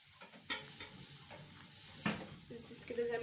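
Battered cauliflower pieces frying in hot oil, a fizzing sizzle that swells as pieces go in, with light knocks of utensils and pan and a few faint bursts of background noise.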